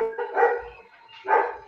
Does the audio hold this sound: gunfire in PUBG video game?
no